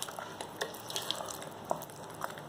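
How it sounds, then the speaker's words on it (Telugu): A spoon stirs a mango pickle mixture made with sugar, giving soft, faint wet clicks and scrapes spread irregularly over a quiet background. "ఒకసారి అంతా బాగా కలుపుకోవాలి"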